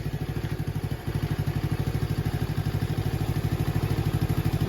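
A Honda Dax–style clone motorcycle with a 125cc engine runs steadily close up, its rapid, even exhaust pulse rising and falling slightly as the throttle is gently feathered, with no talking.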